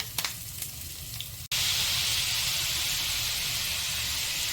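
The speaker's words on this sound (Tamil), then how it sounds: "ஸோ அது ஒரு லைட்டாக ஃப்ரை ஆகட்டும்" Ingredients for an egg gravy frying lightly in a pan, a soft crackle that jumps after a brief cut into a loud, steady, close hiss of sizzling oil, with no one speaking.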